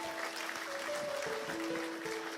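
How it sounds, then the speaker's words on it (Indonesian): Church congregation clapping together, a dense steady wash of many hands sustained throughout at moderate level, with sustained musical tones underneath. "Berikan tepuk tangan bagi Tuhan."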